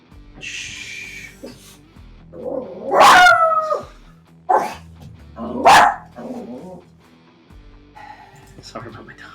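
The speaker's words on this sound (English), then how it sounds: "Sorry about my dog." A pet dog barks indoors in a few loud, sharp bursts spread across the clip, with quieter yips between them, while a person talks nearby.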